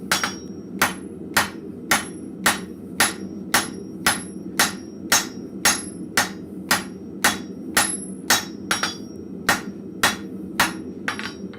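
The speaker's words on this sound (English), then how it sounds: "Probably going to switch up hammers just to move the steel a little faster." A blacksmith hammers steel at a forge with sharp ringing strikes in a steady rhythm, roughly two blows a second, loud and close, with no talk.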